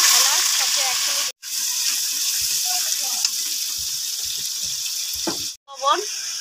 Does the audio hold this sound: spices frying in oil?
yes